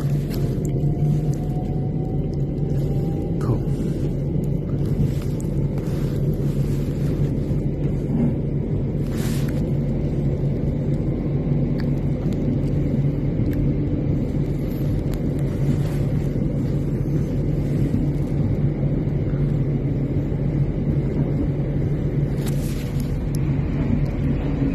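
A Southern train rolls toward Tattenham Corner with a steady, loud low rumble and hum from start to finish. A faint tonal whine and a few brief clicks sit over it, and no one speaks.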